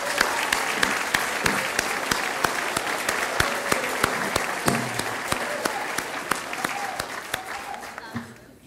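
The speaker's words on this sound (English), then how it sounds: "So I would like all of you in the room to give a round of applause both to Bill" An audience in a room gives a sustained round of applause at an anniversary celebration for a university communication studies program, dense steady clapping with a few sharper claps, fading out near the end.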